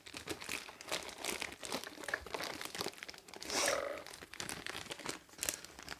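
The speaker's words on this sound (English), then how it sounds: "I think we're just going to have to rip this all apart." Packaging for a DJI Phantom 4 drone is torn and pulled apart, with close crinkling, crumpling and ripping of plastic and paper in irregular bursts, fairly quiet, no voices.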